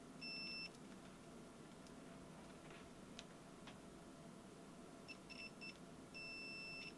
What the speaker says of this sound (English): I will use my cheap and cheerful but still halfway decent little X-Tech multimeter here to do a continuity test on the